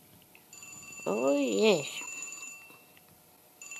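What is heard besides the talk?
mobile phone ringing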